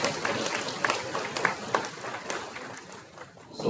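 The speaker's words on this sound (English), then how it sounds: "let's give him one more big round of applause" Audience applause rings through a main conference room during an opening plenary session, steady moderate clapping that runs the full length with scattered sharper claps and a slight dip near the end.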